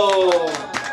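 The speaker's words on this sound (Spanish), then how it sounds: "fuerte el aplauso" A crowd claps at a birthday serenade with a mariachi band, irregular bursts of hand claps mixed with sustained brass-like tones and voices.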